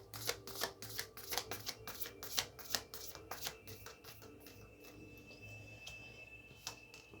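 Tarot cards are shuffled by hand in a quiet room, giving a run of close, crisp riffling flicks that fade to sparse soft taps.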